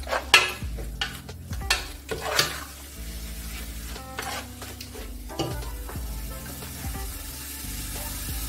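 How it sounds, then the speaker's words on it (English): Spoon stirring Nigerian vegetable sauce in a pot, a run of clinks and scrapes against the metal, with a steady sizzle of frying running underneath throughout. "So I'm going to stir this for 5 minutes"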